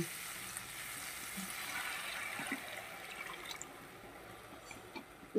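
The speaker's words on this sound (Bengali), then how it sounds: "তো এই পর্যায়ে আমি দিয়ে দেবো জল।" Water is poured into a hot pan of Bengali egg curry cooked with green chillies, giving a soft, steady sizzle and hiss that fades slightly toward the end, faint and without talk.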